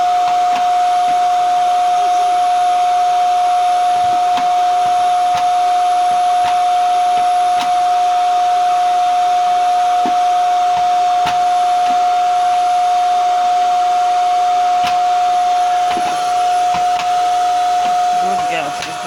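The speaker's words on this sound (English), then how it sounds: "she's doing the hoovering" Vacuum cleaner hoovering a house, a loud steady motor drone with a fixed whine that runs unbroken throughout, close by, with small knocks and scrapes as it moves.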